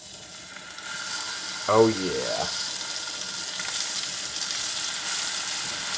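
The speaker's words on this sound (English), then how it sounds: "Ready for the sizzle." Vegetables with onions and teriyaki sauce stir-fry in a hot pan, giving a steady, close sizzle throughout, and someone briefly speaks over it early on.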